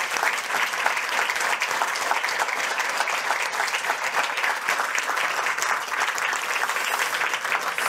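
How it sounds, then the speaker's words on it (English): An audience at a Ukrainian housing recovery forum gives a sustained, dense round of applause for the meeting organizers, loud and even throughout with no voices over it. "so we can give them a big hand of applause"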